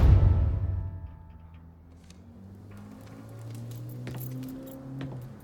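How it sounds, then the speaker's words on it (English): Truck keys jangling in Mafia III: a heavy low rumble at the start fades out, then scattered bright metallic jingles and clinks follow, close and fairly quiet. "I grabbed the keys to the truck"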